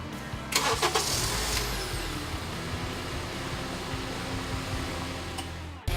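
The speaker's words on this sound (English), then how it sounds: "I'm gonna press the button once, give the car a couple of seconds," Car engine started at the push of a button: a brief starter crank, then the engine catches and settles into a steady idle hum with a faint fan whir beneath.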